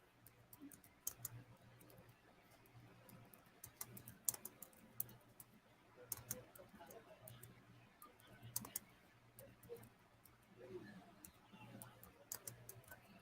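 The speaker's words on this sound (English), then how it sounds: "I'm typing" Keys clatter on a computer keyboard in a quiet room, a faint, close patter of irregular clicks that comes in short bursts over a low background hum.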